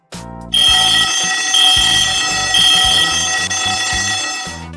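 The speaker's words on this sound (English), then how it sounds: "By second zone detection, fire horn." Fire horn alarm on a Fluoro-K fire suppression system, triggered at second-zone detection: a loud, steady electronic horn tone that starts abruptly and holds continuously, with slight pulsing swells in level.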